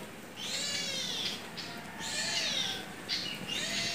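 A cat meows repeatedly in a home kitchen, several drawn-out plaintive cries in a loose rhythm, fairly close and clear over quiet background noise.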